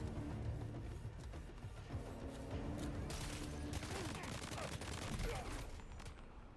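Video game gunfire in Death Stranding 2, rapid bursts of automatic shots crackling over layered combat noise and rumbling impacts, dense and continuous, with a loud flurry near the middle.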